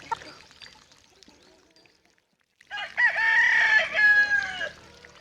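After a quiet start, a chicken breaks into loud, close clucking and drawn-out squawking calls for a couple of seconds.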